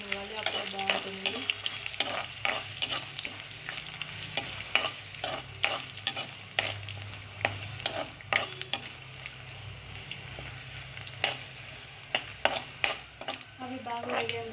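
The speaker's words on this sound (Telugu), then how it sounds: "ఎల్లిపాయ రెబ్బలు అండ్ ఎండుమిర్చి వీటిని బాగా వేగనివ్వాలి." Garlic cloves and dried red chillies frying in a pan for tomato rice, with a constant sizzle under repeated sharp scraping and tapping strokes from stirring, close up and without speech.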